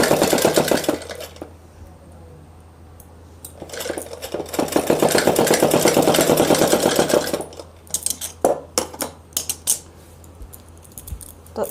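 A sewing machine stitches a suit neckline with piping in rapid mechanical bursts, a short run at the start, a long steady run in the middle, then several brief stop-start spurts, close and clear.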